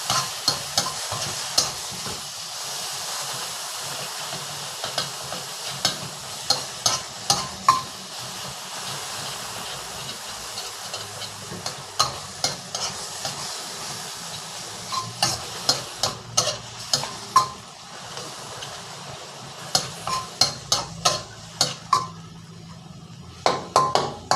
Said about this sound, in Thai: พริกกระเทียมหอมตามด้วยเนื้อครับ รวนเนื้อพอเซ็ตตัวนิดหนึ่งนะครับ